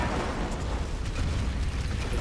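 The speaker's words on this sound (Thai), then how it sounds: "โดนถังน้ำมันแล้วก็จะระเบิดตามสเต็ปนั่นแหละ" An oil barrel blows up inside a cave in the Tomb Raider video game, a dense, rumbling blast that fills the whole clip with a loud, continuous low roar and crackle.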